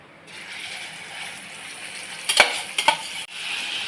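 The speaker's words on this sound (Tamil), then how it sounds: "எறாவை வறுக்கணும்." Prawns frying in hot oil in a kadai, a steady close sizzle with a few sharp stirring scrapes and clatters partway through.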